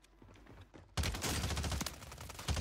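Gunfire in the shooter game Warzone 3 on Rebirth Island, a quieter stretch giving way to a loud, dense volley of rapid shots that continues steadily to the end, with a final burst near the close.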